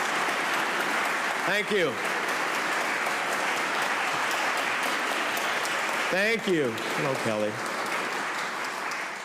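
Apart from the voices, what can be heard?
audience applauding a senator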